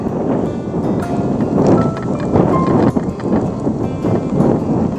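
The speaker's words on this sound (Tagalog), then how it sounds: "Ang lakas ng hangin talaga, headwind." Steady, loud headwind buffeting the microphone during a long bicycle ride, a continuous broadband roar with gusty swells, no voices heard.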